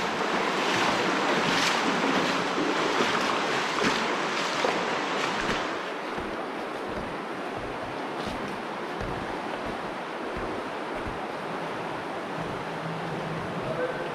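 Fast-flowing water current rushing steadily beneath a root-filled overhang, a dense continuous roar that stays loud and close throughout with no pauses.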